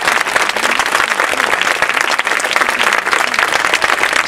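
A concert audience gives loud, close, sustained applause as members of a town band are introduced, dense clapping that continues without a break.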